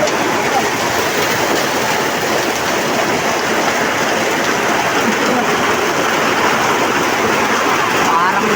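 Heavy rain pours onto a corrugated metal roof in a dense, loud, unbroken hiss and patter that holds steady throughout, with no break in the downpour.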